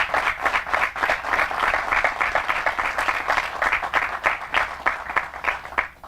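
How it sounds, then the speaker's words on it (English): A crowd claps for precinct staff at the Valdez Road groundbreaking ceremony, a dense, steady round of applause that holds for several seconds before thinning out. "raise your hand so that we can give you a round of applause"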